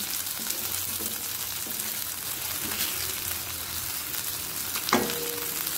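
Mackerel (bangude) frying in a curry leaf masala over low heat, a steady dense sizzle throughout with faint stirring scrapes and one sharper pop near the end.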